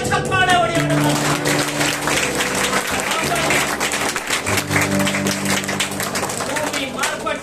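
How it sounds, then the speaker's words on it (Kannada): A church congregation at Sunday worship claps loudly and continuously, with a dense wash of hand claps mixed with voices and sustained musical tones throughout. "ದೊಡ್ಡ ಚಪ್ಪಾಳೆ ಹೊಡೆಯೋಣ."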